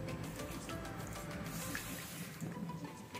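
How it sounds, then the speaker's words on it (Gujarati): Water poured onto sugar in a pan for besan laddu syrup, a steady close stream running and splashing continuously with no talk. "હવે આપણે ખાંડ પલળે એટલું જ પાણી નાખવાનું છે."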